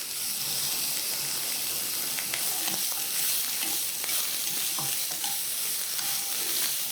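Carrots fry in a lightly oiled pan, giving a steady, close sizzle throughout, with a few light stirring scrapes and taps over it and no voices.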